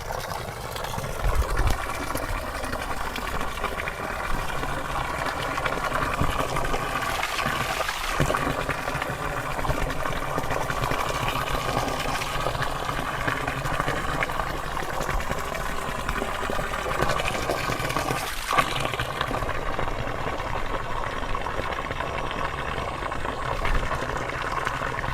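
Water runs in a steady, continuous rush that holds at an even level throughout, close by, with no talking over it.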